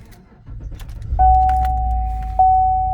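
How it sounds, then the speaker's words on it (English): A Chevrolet Silverado or GMC Sierra pickup is started, with a starter whir and a close, loud engine catching and settling into a steady idle hum with a sustained whine. "let's go ahead and turn the truck on"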